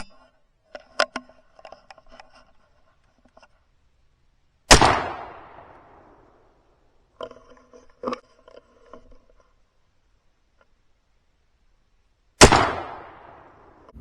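Two sharp, loud rifle gunshots during a hunt, each a sudden crack with a long decaying echo, separated by several seconds of quiet rustling and handling noises.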